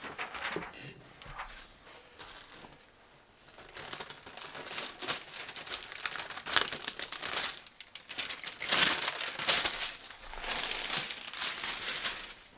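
Paper crinkling and peeling away from a sublimation-printed pencil case top, a long stretch of close, soft rustles and crackles in uneven bursts with no talking.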